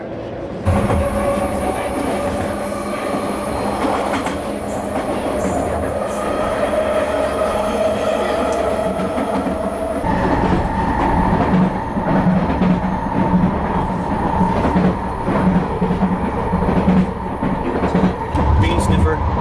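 A SkyTrain Mark 5 metro train rumbles and hums steadily throughout, with wheel noise and rail clatter, and voices murmuring faintly underneath.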